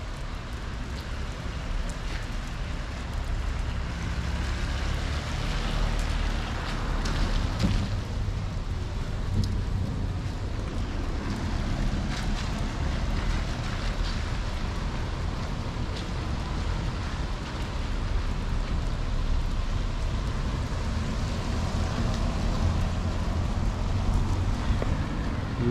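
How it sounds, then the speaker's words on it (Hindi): Steady rain falls throughout a walk through the streets of Nancy, France, a dense, continuous hiss of drops on pavement and surfaces, fairly close and even in level, with no talk over it. "यहाँ पे तो बुरे हालात हैं बारिश से"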